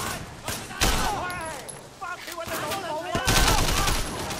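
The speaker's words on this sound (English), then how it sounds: "We're letting the shots off like Bayonetta." Rapid bursts of gunfire in the open-world action game Sleeping Dogs, repeated sharp shots and volleys mixed with in-game voices and effects, loud and dense throughout.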